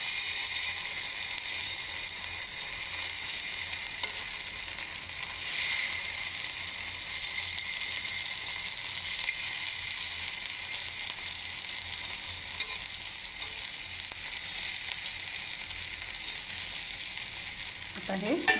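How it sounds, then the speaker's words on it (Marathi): Rava uttapam batter fries in oil on a hard-coated tawa, giving a steady, even sizzle that holds at one level throughout. "आता ह्याच्यावर तव्यावर मी तेल टाकलेलं आहे."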